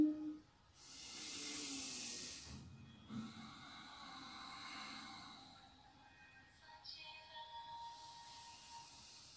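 Deep, slow breaths during a children's yoga session, a long airy inhale-exhale hiss followed by further softer breaths, close and quiet with no talking.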